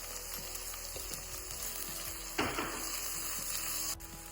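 Sliced onions, green chillies, mint and turmeric frying in oil for mutton paya soup, giving a steady close sizzle with occasional stirring clicks and one louder hiss partway through.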